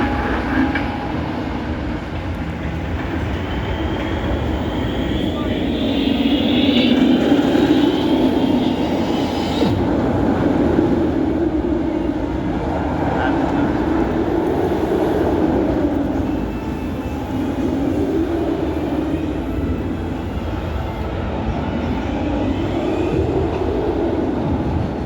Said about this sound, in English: It's time then for the best roller coaster here at Alton Towers, Nemesis Reborn in the dark.